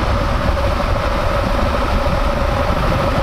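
A motorcycle engine idles steadily and close by on a road tour through the former East Germany near Oberwiesenthal, a continuous low rumble with no talking.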